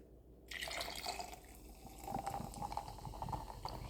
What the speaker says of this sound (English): I'm just going to go ahead and pour it into my drink.